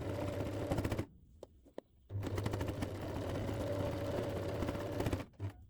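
A sewing machine runs a straight stitch along the lower edges of a fabric hood with an attached scarf, making a close, rapid mechanical rattle in two long bursts separated by a short pause.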